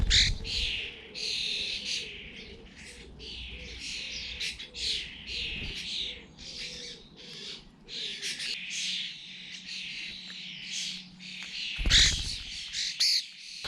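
A common starling in a garden gives a busy run of chirps, whistles and squawky calls, fairly close, with a low steady hum underneath and a brief louder burst near the end.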